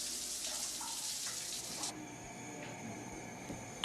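Running water pours in a steady, splashy hiss like a tap filling a sink, loudest at first and easing after a couple of seconds, with small clinks and no voices.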